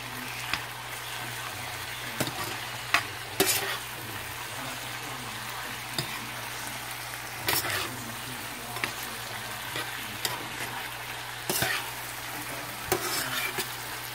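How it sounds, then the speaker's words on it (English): A saltfish mixture sizzles steadily in a frying pan while being stirred, with sharp scraping strokes of the spoon against the pan cutting through the constant frying hiss at irregular intervals. "So I'm gonna mix everything in. Cook it up together."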